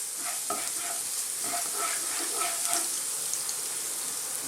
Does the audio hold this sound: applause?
no